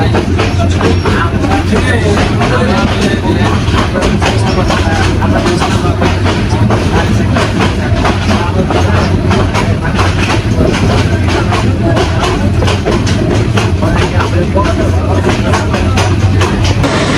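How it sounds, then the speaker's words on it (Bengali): The Bijoy Express passenger train runs on the Jamalpur to Chattogram line, heard from inside as a loud, continuous rumble with a dense, rapid clatter of wheels on rails throughout. "দুই ঘন্টার বিলম্ব নিয়ে ছুটে চলেছে ট্রেন আটকাবাড়ি রেলওয়ে স্টেশনের উদ্দেশ্যে"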